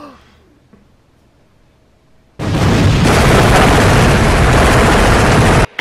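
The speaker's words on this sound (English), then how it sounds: "The explosions are realistic." Loud, dense explosion sound effects from a Christmas spy comedy film burst in after a quiet stretch and roar continuously for several seconds before cutting off abruptly.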